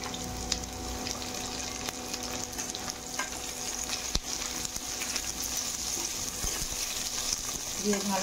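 Potatoes and drumstick pieces fry in oil in a pan for a potato-and-drumstick curry, a steady broadband sizzle running throughout at moderate level with occasional stirring scrapes and faint background noise, no talk.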